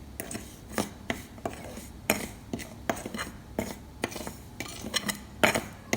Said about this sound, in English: I'm going to mix all the spices together.